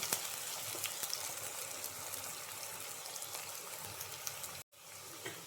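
Chopped onions frying in a pan, giving a soft, steady sizzle with faint crackling pops, heard alone at low volume before a brief cut near the end.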